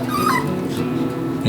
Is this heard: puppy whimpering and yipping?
yes